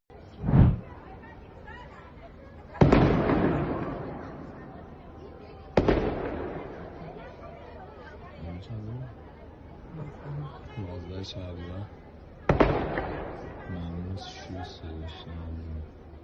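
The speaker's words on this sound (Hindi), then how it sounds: "वेस्टर्न ईरान में हुआ है बड़ा धमाका" Big explosion in western Iran, heard as several sharp, loud blasts, each followed by a rolling, decaying rumble, with a crowd of voices talking and shouting between them.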